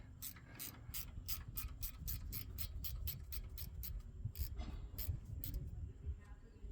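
An 8mm ratchet wrench loosens the small bolt holding the center pin on a Ford 8.8 rear axle differential, producing close, crisp rapid clicking in quick bursts with brief pauses.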